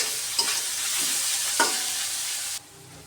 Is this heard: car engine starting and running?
no